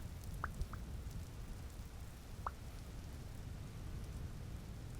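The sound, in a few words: thunderstorm rain and thunder in the video game Vintage Story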